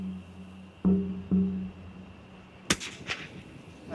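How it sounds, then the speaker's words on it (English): A rifle shot at an animal in rural Australia cracks once, sharp and loud, after a couple of dull thumps, and its echo trails off over open ground. "If it's for human consumption, Ross must get a clean headshot."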